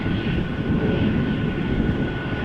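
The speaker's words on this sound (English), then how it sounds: "Cargolux flight 2613, Boeing 747-400, going to Luxembourg, short flight, hence it's already airborne." A Cargolux Boeing 747-400 cargo jet climbs after takeoff from Amsterdam Schiphol Airport, a steady, low rumbling engine roar with a faint high whine, heard continuously at a distance.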